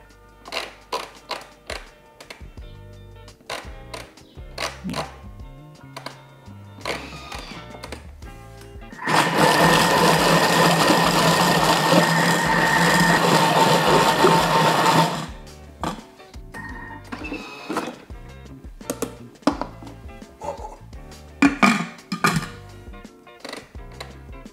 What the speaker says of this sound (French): je vais mixer le tout alors assez longtemps en fait parce que plus on va mixer, plus ça va s'épaissir